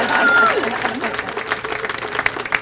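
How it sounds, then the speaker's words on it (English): Audience applause at a Martin Luther King Day of Service event at the Howard County Food Bank, a steady wash of clapping from a crowd that holds for a few seconds with some voices mixed in. "That's an applause line, y'all."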